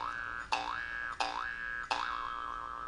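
Three cartoonish boing stinger effects from GarageBand's built-in sound library, each a sharp twangy hit followed by a wobbling, bouncing pitch, spaced about every 0.7 seconds and fairly quiet.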